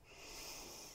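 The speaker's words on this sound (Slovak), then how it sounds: "hlboký nádych nosom a hlboký výdych ústami" A deep exhale pushed out through the mouth during a Pilates neck-release exercise, one steady breathy rush lasting about a second, close and fairly quiet, with no talking over it.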